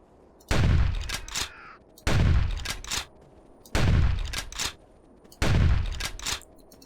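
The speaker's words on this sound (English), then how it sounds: "this might be perfect for us using the shotgun to go after them" Shotgun blasts aimed at dinosaurs in the video game Carnivores 2: four heavy, booming shots roughly 1.6 seconds apart, each followed by a pump-like mechanical rattle, close and loud.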